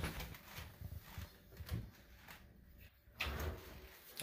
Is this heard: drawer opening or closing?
yes